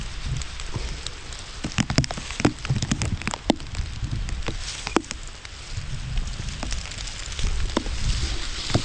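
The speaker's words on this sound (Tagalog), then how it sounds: "Gawa po yan ng ulan." Steady rain falls and patters on surfaces nearby, a dense hiss with scattered louder drops and no talk.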